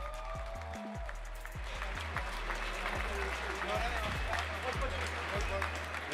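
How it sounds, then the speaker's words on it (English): Crowd applause at a public MMA weigh-in in Ostrava for fighter David Kozma, steady and broad, running throughout with a loud thumping beat from venue music and a speaking voice underneath. "Give a huge round of applause for David Kozma."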